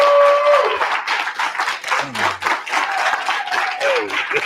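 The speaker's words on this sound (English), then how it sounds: "Big round of applause for Dr. Claud." Big round of applause from a lecture audience, loud rhythmic clapping that swells and pulses, with brief voice fragments over it.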